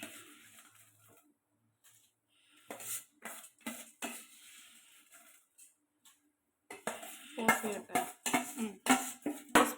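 Rice tipped into a pot and stirred for ghee rice, with scraping utensil clatter against the metal pot in short bursts, sparse at first then busier and louder toward the end.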